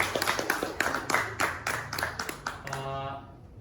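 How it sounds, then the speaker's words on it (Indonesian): An audience claps in a run of distinct bursts of handclaps for a few seconds. The clapping is at moderate level and fades out at the end. "Coba tepuk tangan dulu buatnya."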